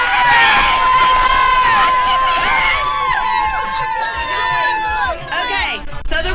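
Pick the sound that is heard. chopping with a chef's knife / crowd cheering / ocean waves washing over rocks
crowd cheering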